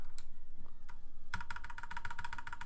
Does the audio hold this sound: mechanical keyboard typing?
yes